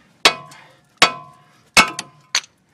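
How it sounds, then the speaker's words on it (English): A big hammer strikes the steel tie rod end on a car's steering linkage, giving four sharp, loud metallic clanks that ring briefly and die away in a quiet garage. "Give this a swift smack with the BFH."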